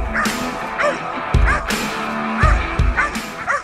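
A sniffer dog from the Kaziranga canine squad gives repeated sharp barks and yips in an outdoor setting, loud and close, coming in irregular bursts over a low background rumble.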